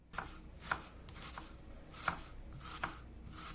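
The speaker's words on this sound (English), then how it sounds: "And now I'm simply going to slice the onions in a very sort of coarse way." A knife slices coarsely through onions on a cutting board, giving about five distinct chopping taps at an uneven rhythm, close and fairly quiet, with no voices.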